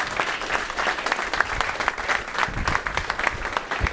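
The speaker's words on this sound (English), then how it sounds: "without any further ado, a huge round of applause for Joshua Latimer." A room full of people applauds a speaker being introduced at a business talk, with distinct individual claps standing out against the crowd's steady clapping throughout.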